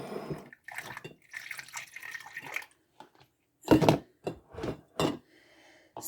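Homemade almond milk poured into jars, liquid splashing and dripping in uneven bursts with short gaps, close and moderately loud, with wet glugging and trickles.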